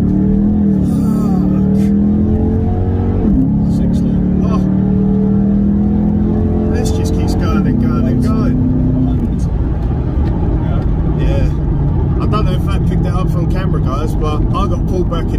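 A Ford Mustang GT convertible accelerating hard from 0 to 60, its engine roaring loud and close as it climbs through several gear changes, with brief pauses in pitch between shifts and people talking over it.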